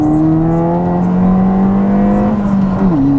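2016 Ford Fiesta ST accelerating uphill, heard from inside the cabin as a loud, steady engine drone whose pitch climbs, then drops at a gear change near the end.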